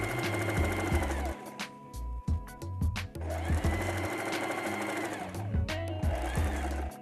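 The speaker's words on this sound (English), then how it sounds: "And you can continue sewing." A domestic sewing machine stitches the seams of a fabric bag in fast, steady mechanical runs, pausing briefly midway before the motor hums and the needle chatters on again, loud and close.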